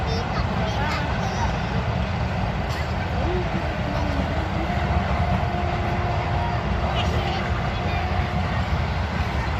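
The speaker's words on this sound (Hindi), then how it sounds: "स्टेशन था जहाँ से ट्रेनें जा रही थी और आ रही थी।" Trains moving through a railway station produce a steady, loud rumble of rolling wagons that runs throughout, with faint voices mixed into the continuous noise.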